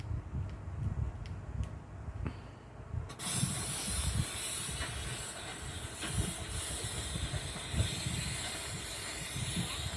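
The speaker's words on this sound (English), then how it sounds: "we're gonna go ahead and spray paint these lines" Faint tapping and clicks give way to a sustained, loud aerosol spray-paint hiss marking lines, spraying continuously with brief pauses.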